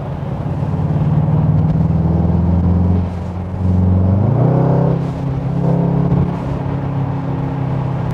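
A Mercedes-AMG GT63S with 639 horsepower accelerates hard, its loud engine droning steadily. The pitch climbs in a surge about halfway through before settling back into a deep, continuous rumble. No one speaks.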